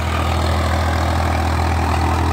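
A Swaraj 855 FE tractor engine, rated around 50 HP, runs steadily in a farm field, its loud, continuous low diesel rumble holding even with no voices over it.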